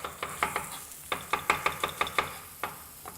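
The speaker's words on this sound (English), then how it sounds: "So we're gonna take this and we're gonna slice this up." A knife chops through vegetables for tomato sauce on a cutting board, making a quick run of crisp, close knocks in uneven bursts with a short pause in the middle.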